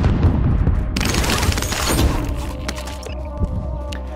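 Gunfire in Call of Duty Modern Warfare, a loud, dense burst of shots and booms that fades into scattered single cracks and lingering echoes.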